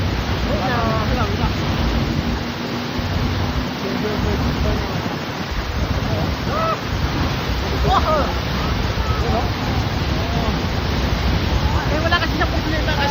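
Huka Falls near Taupo thunders as a steady, loud broadband roar of rushing water, continuous and close throughout, with scattered voices and faint chatter layered under the torrent.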